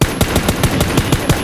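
Rapid automatic gunfire in a video game, a loud steady burst of evenly spaced shots filling the whole moment with no talk over it.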